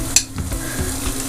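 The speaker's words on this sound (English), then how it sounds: "Now that my garlic's been sauteing for about a minute" Garlic sautéing in a pan over heat raised to medium-high while a pork ragout is being made, giving a steady close sizzle with a sharp clink near the start and soft stirring scrapes.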